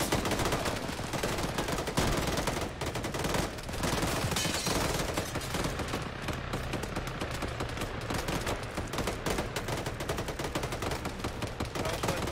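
Continuous automatic gunfire aimed at a building during a military exercise: dense, rapid bursts from multiple weapons overlapping into an unbroken roar of shots, loud and sustained across the whole stretch.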